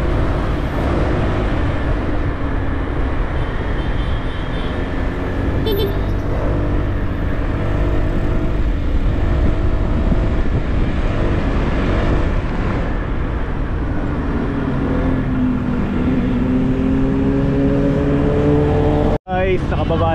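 A motorcycle rides along a big highway among traffic on the Pililla–Marilaque route, its engine and wind noise a loud continuous drone with a rising engine tone toward the end, and a brief dropout near the close.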